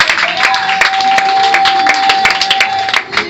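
Church congregation applauding during a Sunday worship service, a dense continuous patter of clapping hands with a steady sustained tone ringing underneath, loud and close throughout.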